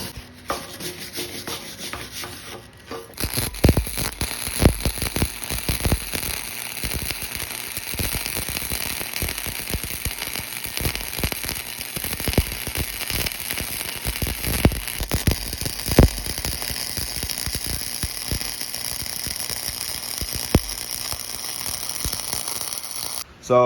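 Steel spindle being tack-welded onto a fourth-gen 4Runner rear bumper: a steady, loud crackling hiss dense with sharp pops and snaps runs almost unbroken after a brief quiet start, with no talking.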